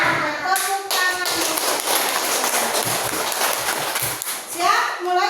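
A class of third-grade children claps hands together at an Islamic primary school, a dense run of claps and taps under children's voices, close and fairly loud throughout.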